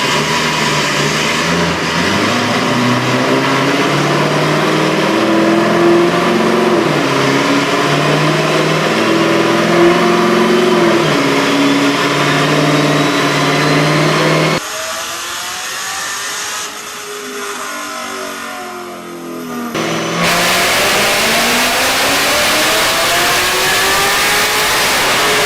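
A 600 wheel-horsepower Cadillac running 10 pounds of boost revs hard and loud up close, its engine note climbing and falling in long sustained pulls, with a brief drop in level midway before roaring back.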